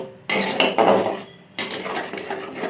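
A spice paste of ginger, onion, garlic, chilli, turmeric and cumin powders is stirred hard in a pan. A metal utensil scrapes and clanks against it in loud bursts, with short pauses between strokes and no voices.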